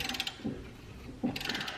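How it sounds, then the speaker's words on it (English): A ratcheting wrench clicks in two quick bursts of close, sharp pawl ticks with a short pause between, fitting 6-piston brake calipers on a Nissan 240SX S13. "I got more leverage and a ratcheting wrench that isn't broken."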